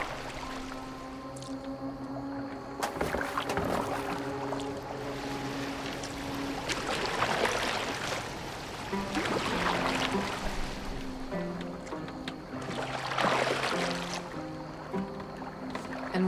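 A boat moving on water in the video game Assassin's Creed Valhalla: a low continuous wash of water and creaking hull with surges of splashing oar strokes, set against sustained musical tones.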